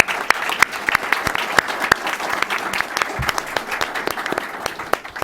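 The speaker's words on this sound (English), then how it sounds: "Can we give a round of applause?" An audience at a panel event on South Africa's twenty years of democracy gives a round of applause, sparse and crisp individual claps rattling steadily for several seconds before thinning out.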